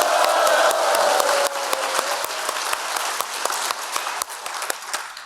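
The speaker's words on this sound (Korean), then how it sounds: "우리 동지들을 위한 큰 박수 부탁드립니다" A crowd applauds warmly at a rural basic-income coalition launch ceremony in Korea, dense sustained clapping with sharp individual claps standing out, steady then slightly thinning toward the end.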